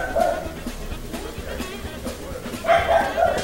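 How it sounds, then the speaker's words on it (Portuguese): A dog barking in the survival video game The Forest, two short bursts of barks, one at the start and a louder run near the end, over faint background sound. "Cachorro latindo."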